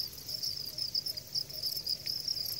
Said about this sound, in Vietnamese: các bạn cho mình coi con dế nè, nó mập như thế nào mà coi nè